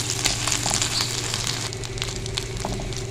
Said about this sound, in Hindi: मिक्स करेंगे इसको और 1 मिनट तक हम इसको भूनेंगे ताकि अदरक लहसुन का जो कच्चापन है ना ये ख़त्म हो जाए